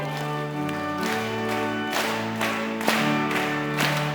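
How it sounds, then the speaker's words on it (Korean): Congregation clapping in steady rhythm while singing a hymn together at a church prayer meeting, the beats regular and close, mixed with sustained voices and instrumental accompaniment. "이 시간 우리 박수하면서 힘차게 찬양하겠습니다."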